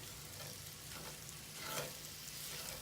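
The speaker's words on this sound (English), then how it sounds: "You hear them starting to sizzle a little bit." Soft, steady sizzling of onions in a pot with a gentle swell partway through, quiet and continuous, no talking.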